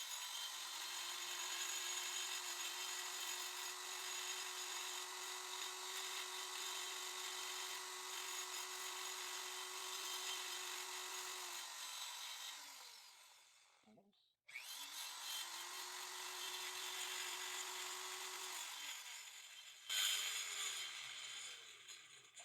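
A rotary porting tool with a large single cut burr runs at a steady, high-pitched whine, grinding metal close by. It stops briefly about halfway through, then starts up again and keeps whirring, with a few faint scraping noises near the end.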